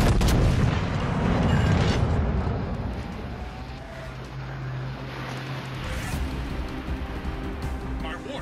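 Naval artillery in World of Warships: Legends, heavy booming gunfire and rumbling explosions over sea and engine noise, loudest at the start, with a voice speaking over the battle.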